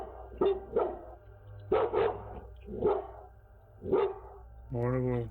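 Dogs bark at night, picked up by a security camera: several sharp barks in uneven bursts at moderate distance, ending with a sustained whining howl, over a steady background hum.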